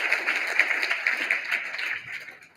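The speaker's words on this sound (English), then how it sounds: "Let's give them a round of applause" A room of business-event attendees applauds, a dense wash of clapping that holds steady and then fades toward the end.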